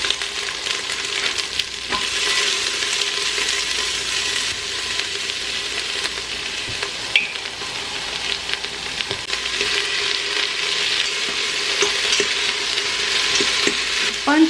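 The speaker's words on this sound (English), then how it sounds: "And right about now, I also add the onion and the celery." Garlic, onion and celery sauté in an Instant Pot for vegetable broth, giving a steady, close sizzle with soft crackling throughout and no talking.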